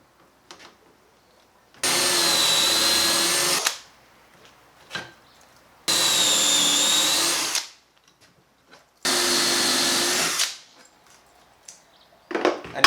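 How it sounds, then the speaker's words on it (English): A power drill whirs in three separate bursts of about two seconds each, drilling dowel holes in a wooden plank, with quiet pauses and small handling clicks in between. "to drill the holes on the second plank"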